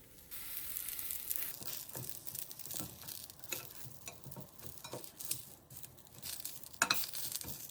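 Eggplant pieces frying skin-side down in a hot pan give a steady close sizzle, broken by repeated scraping and stirring clatter, with no talking.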